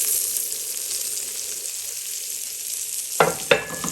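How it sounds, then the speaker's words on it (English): Garlic fries in a pan with chorizo, prawn and bacon, giving a steady high sizzle, followed by two sharp scraping stirs near the end. "Get my garlic going in here."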